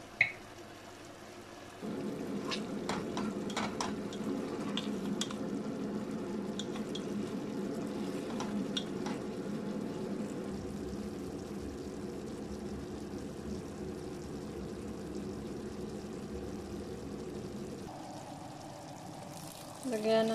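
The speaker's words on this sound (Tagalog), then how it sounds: "Lagyan na natin ng tubig" Water pours steadily into a pot of sautéed salmon head for sinigang, a continuous close splashing stream lasting over fifteen seconds, with brief clinks before and after.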